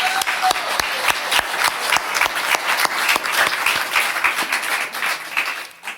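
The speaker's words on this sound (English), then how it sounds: "do you mind giving another round of applause?" An audience at an open mic night of the Abergavenny writing festival breaks into sustained applause, dense rhythmic clapping from many hands that holds steady before fading at the end.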